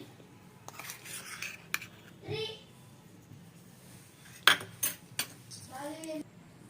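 A spoon adds gram flour to raw chicken in a bowl for street-style chicken pakoda, producing a few sharp metallic clinks and scrapes against the bowl amid quiet background, with brief voice sounds in between.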